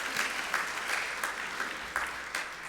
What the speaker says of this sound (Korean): 여러분 박수 한번 할까요?